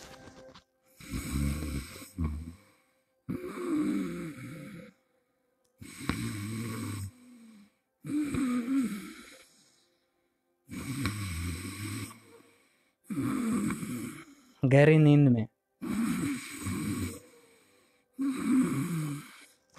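A man imitates snoring with his voice: nine rough, rasping snore sounds, each about a second long, separated by short silences in a slow, regular rhythm. They are close and clear, with no talking between them.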